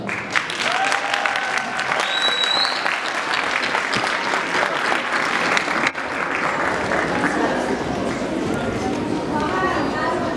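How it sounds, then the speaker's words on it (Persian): Audience applause at a university lecture in Urmia, a dense, steady clapping from a large crowd that carries on throughout, with voices and chatter mixed in. "انشاءالله دوستان تشویق"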